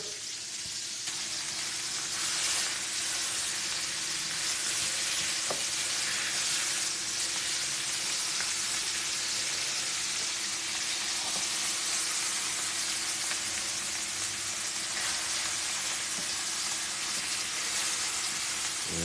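Short ribs searing in a hot pan give a steady, even sizzle that holds at moderate loudness throughout, close by and with no voices over it.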